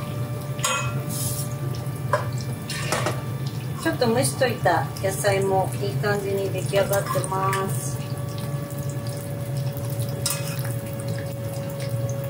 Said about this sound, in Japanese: ご飯が後ろで炊けてるので すごい音を立ててます